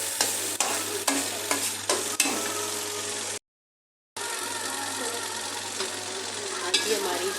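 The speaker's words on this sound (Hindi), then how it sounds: "हमारी दाल फ्राई हो चुकी है, तकरीबन तैयार हो चुकी है" Boiled moong dal frying in a pot gives a continuous sizzle with sharp stirring knocks. The sound breaks off for about a second midway, then resumes as a steady close bubbling and hiss.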